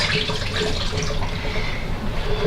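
Pasta cooking water pours and splashes as it drains away, a loud, close, steady gush of running liquid lasting a couple of seconds with no talking.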